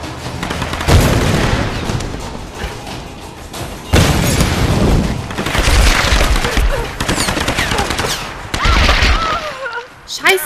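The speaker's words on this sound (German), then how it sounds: "So ein paar Schüsse." Bursts of rapid gunfire and heavy booms in the video game Tomb Raider (2013) come in several loud volleys, with a voice speaking German between and under the shots.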